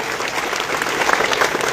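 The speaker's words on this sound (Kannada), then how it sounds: "ಜೋರಾಗಿ ಚಪ್ಪಾಳೆ ಹೊಡಿ ಭಾಗದವ್ರು" Brief burst of loud applause from a large crowd at a political rally, dense clapping that swells slightly toward the end.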